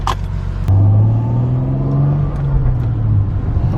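A Toyota Supra's engine pulls away on a drive around the block, a steady rising drone with a low rumble that holds at close range throughout, with no talking.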